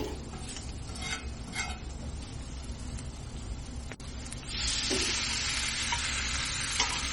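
Spice masala with pepper powder sizzles as it is stirred in oil for Kottayam-style beef roast: a soft, steady frying hiss with a sharp click midway, then a brighter, louder sizzle.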